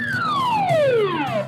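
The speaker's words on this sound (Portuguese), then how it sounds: "sirene!" A loud, close siren sound effect plays as one smooth falling wail, its tone sliding steadily downward over about a second and a half.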